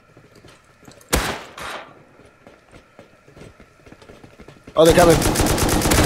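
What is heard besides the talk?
gunfire in the video game Rust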